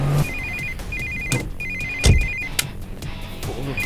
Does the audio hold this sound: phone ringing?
yes